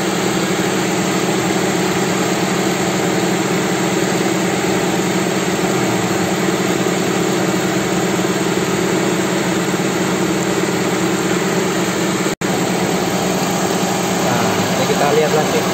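A Nissan Serena C24 engine runs steadily at idle with the radiator fan spinning, giving a loud, constant hum and whir that holds throughout without change.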